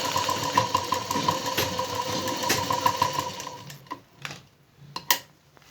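Sewing machine stitching blouse fabric with a fast, steady mechanical whir for several seconds, then stopping, followed by a few clicks and handling knocks close by.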